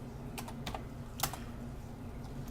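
Sparse taps on a computer keyboard, a handful of soft, close keystrokes in small clusters over a low steady hum, no voices.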